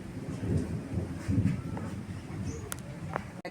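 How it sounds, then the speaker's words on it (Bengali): Low thunder rolls through a windy storm in a couple of heavy, muffled swells, followed by scattered light knocks and clicks nearby. "মেঘ ডেকেই যাচ্ছে বিশাল জোর জোর"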